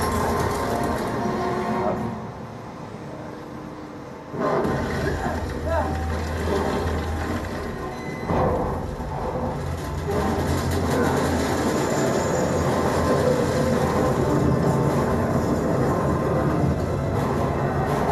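A train rolls along steadily in the video game Uncharted 2: Among Thieves, a continuous rumbling rail noise with rattling carriage sounds, while a voice talks over it throughout.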